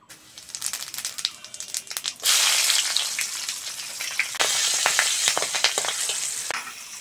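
Green chillies and five-spice seeds sizzle loudly in hot oil for a Bengali fish curry, a dense crackling spit that surges brighter midway and stays continuous, with no talk over it.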